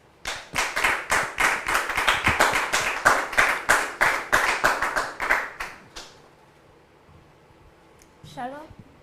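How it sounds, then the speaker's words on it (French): Studio audience on a French talk show claps in unison, a loud, close, rhythmic beat of roughly a dozen sharp claps over six seconds before fading to quiet, followed by a brief burst of speech. "Dame Bénédicte, sous vos applaudissements, s'il vous plaît."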